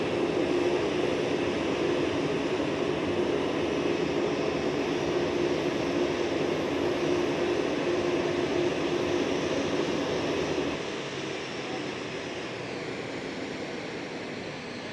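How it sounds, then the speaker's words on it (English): Steady broadband jet roar from a Transavia Boeing 737-800 at Schiphol airport, loud and continuous, easing slightly lower toward the end with no voices. "Right over there we have Peter Pan, Transavia 737-800."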